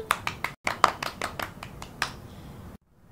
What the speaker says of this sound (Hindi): बच्चों बजाओ ताली।